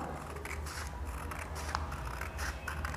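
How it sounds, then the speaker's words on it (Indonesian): Scissors snipping through a paper picture of a roof along a dotted line, heard as repeated close, crisp cuts over a steady background hum, with no talking. "Coba lihat, digunting dulu gambar atapnya."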